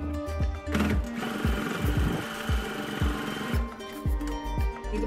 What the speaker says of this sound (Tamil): இது மாதிரி டபுள் ஸ்டிச் தைச்சிருங்க.